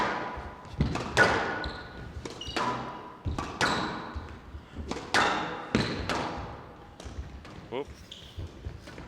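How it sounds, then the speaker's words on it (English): A squash rally at a professional Windy City Open match, with sharp ball thwacks off the walls and racquets in irregular succession, squeaking shoes and crowd murmur, ending on a forehand drop shot; a voice exclaims briefly. "Shot a bit of a shocker with the trickle boast, but then a wonderful forehand drop shot."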